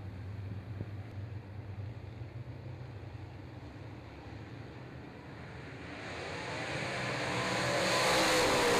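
Late model race cars at a motor speedway, engines droning from afar at first and then swelling into a loud, rushing roar as the pack comes past, with no voices over them.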